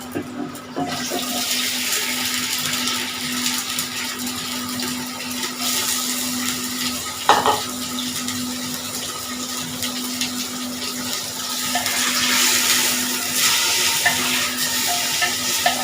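Beef for matka gosht goes into a hot clay pot, and a continuous loud sizzling, bubbling rush follows with a steady hum beneath and a brief clatter partway through.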